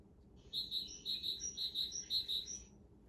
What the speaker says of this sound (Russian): Вот ранние птички сейчас с желтым брюшком.